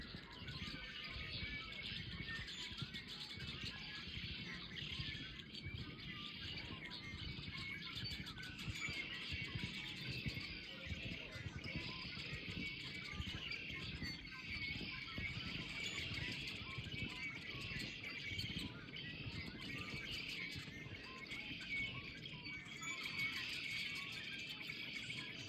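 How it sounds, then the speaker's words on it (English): A flock of blackbirds sings outdoors with faint, scattered chirps and calls over quiet ambient noise, with a car passing in the distance. "you hear all these blackbirds over here?"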